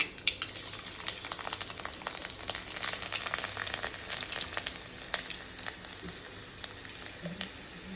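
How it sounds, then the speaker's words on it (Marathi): Garlic fries on low heat in oil with mustard seeds, making a faint, continuous crackle of tiny pops and spits close by with no talking. "लसूण कमी गॅसवर छान लाल होऊ द्या"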